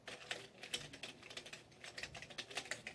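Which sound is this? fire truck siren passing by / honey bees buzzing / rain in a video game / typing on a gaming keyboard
typing on a gaming keyboard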